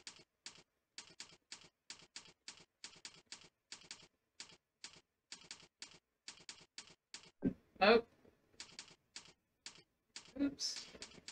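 Keystrokes on a computer keyboard in a typing lesson using the number keys: crisp, evenly paced single clicks close to the mic, with a brief pause and a couple of short voice sounds near the end.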